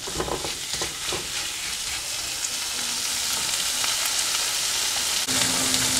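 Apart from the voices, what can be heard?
spicy prawn masala frying and being stirred in pan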